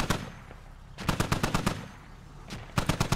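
Bursts of DShK heavy machine gun fire in the military shooter Squad, one rapid volley followed after a pause by a second, loud and close, with no talking.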